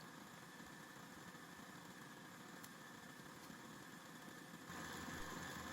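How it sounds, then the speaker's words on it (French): A KitchenAid stand mixer whips meringue at maximum speed (setting 10), giving a steady, continuous motor whine and whir that holds constant throughout, swelling slightly louder near the end, with no talk. "On continue de battre à vitesse maximale jusqu'à ce qu'on obtienne une meringue bien lisse et bien brillante."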